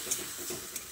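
Cauliflower stalks stirred in a pan with a little water, giving a soft scraping stir with a faint sizzle underneath and two brief clinks of the utensil against the pan, close and quiet.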